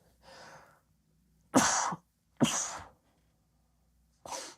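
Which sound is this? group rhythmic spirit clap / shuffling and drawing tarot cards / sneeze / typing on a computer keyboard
sneeze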